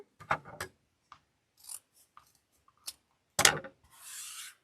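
Scissors snip through wreath material for a storm door wreath kit, a few sharp separate cuts spaced across the moment, close and fairly quiet, ending in a brief rustle.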